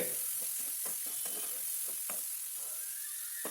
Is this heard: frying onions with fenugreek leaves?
yes